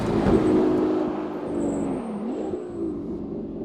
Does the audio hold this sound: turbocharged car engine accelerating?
yes